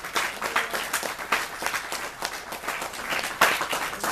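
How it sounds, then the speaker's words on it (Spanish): A church congregation claps together in praise, a dense, fairly even patter of many hands with slight surges, near and steady without talk. "Denle un aplauso al Señor"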